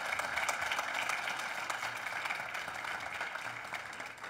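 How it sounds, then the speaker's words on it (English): A conference audience at a PyData data science talk gives a speaker steady, moderately distant applause, a soft even patter of many hands lasting a few seconds with no voices over it. "an applause for Christine"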